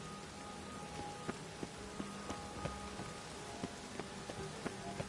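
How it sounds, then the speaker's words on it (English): Steady rain pours down in The Witcher 3 video game, a dense even hiss with scattered brighter drop taps and faint tonal game sounds underneath, no voices. "The heavens have opened."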